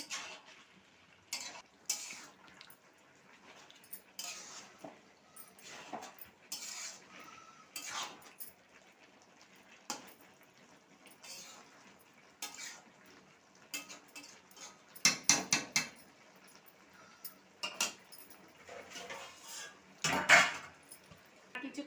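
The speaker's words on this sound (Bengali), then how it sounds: "আর কিছুক্ষণ আমি তো নাড়িয়ে নেবো আর একটু" Pumpkin greens with mixed vegetables are stirred in a pan, giving intermittent scrapes and metal clinks of the utensil against the pan, close and fairly quiet, with bursts of louder scraping.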